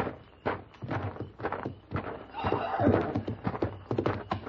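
Horses whinny and neigh, with hoof thuds mixed in, in a busy, fairly close outdoor scene from an old radio western drama.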